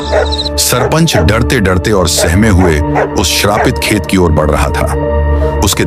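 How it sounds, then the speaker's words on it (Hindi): Village dogs bark and yelp at night, their calls blended into the background beneath continuous narration by a speaking voice throughout. "गांव के कुत्ते भी लगातार भौंक रहे"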